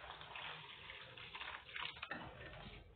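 Water is poured for a strawberry smoothie in a home kitchen, a soft continuous splashing stream lasting about three seconds, faint and with nothing else audible.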